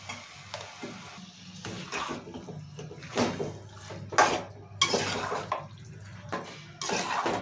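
Chicken pieces being stirred in a pan with oil, salt, ginger-garlic paste and coriander powder for chicken curry, with a steady soft sizzle and repeated scraping, clattering spoon strokes against the pan.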